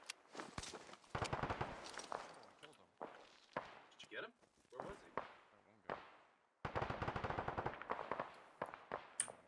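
Rapid bursts of automatic gunfire from many weapons at once in Arma 3, loud and close, firing in dense overlapping volleys with brief lulls between them.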